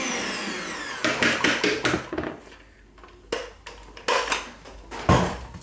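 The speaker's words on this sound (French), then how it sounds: "on va serrer les blancs. Donc, on va fouetter, mais très fort" Egg whites for macarons being whisked hard in a bowl, bursts of rapid clattering whisk strokes against the bowl with brief pauses in between, fairly close and alone.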